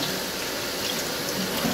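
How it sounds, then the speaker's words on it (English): Warm tap water runs steadily over frozen vegetables in a strainer, a continuous close hiss and splash with no pauses and no voices. "Another way would be to just allow water to run over them."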